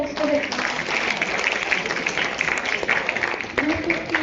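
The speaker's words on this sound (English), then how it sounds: "You should clap for your own poster." Audience applauding a row of group posters at a pharmacovigilance week event, dense steady clapping throughout with voices mixed in underneath.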